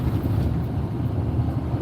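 Continuous low drone and road rumble from a 2005 work truck powered by a 6.0-liter Power Stroke diesel, heard from inside the cab in traffic, steady with faint wind-like hiss.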